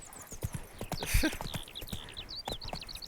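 Hooves of Roach, Geralt's horse in The Witcher 3, clip-clop in a steady walking rhythm close by, joined by a brief snort or whinny midway, with birdsong chirping in the background.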